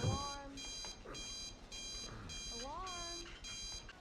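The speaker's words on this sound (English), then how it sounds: "Alarm." An alarm clock rings in The Last of Us episode 1x01, its electronic beeps repeating in even pulses while voices talk over it.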